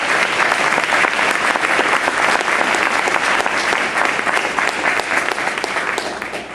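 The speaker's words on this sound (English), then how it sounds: "Let's give him some love and applause." Sustained audience applause fills a community college lecture hall, dense and loud from start to finish, tapering only slightly at the very end.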